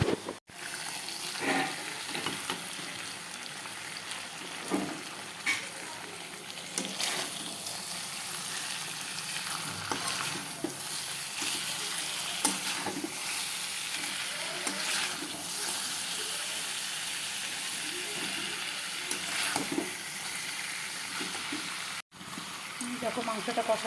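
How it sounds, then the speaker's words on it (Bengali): Meat being stirred and fried down in a pan until deep red, a steady broad sizzle with scraping stir strokes throughout, close up, with voices talking faintly in the background at times. "দেখো মাংসটা কষানো হচ্ছে, বেশ লাল লাল করে কষানো হলো মাংস।"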